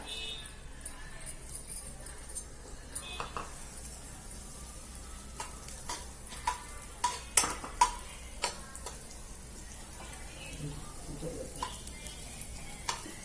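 Moth bean dal hitting hot oil gives a faint, steady sizzle with scattered light ticks and clinks, quiet throughout.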